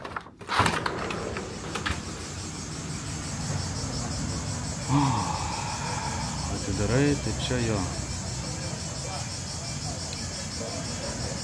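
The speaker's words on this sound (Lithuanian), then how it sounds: "Šiaip visur cikados girdisi." Cicadas outside a ground-floor hotel room in Turkey, a constant shrill buzzing that runs the whole time under nearby talk and a few brief clunks.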